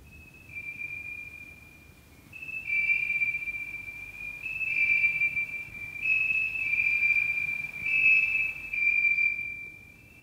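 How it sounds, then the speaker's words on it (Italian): Crickets trill in high, thin tones, steady and moderately quiet, with a few overlapping chirps joining in. "Canto di grilli."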